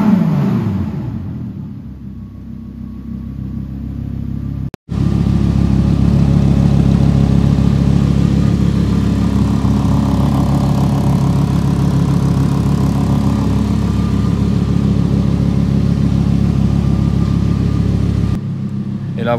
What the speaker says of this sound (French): vous avez entendu la sonorité un petit peu de ce V10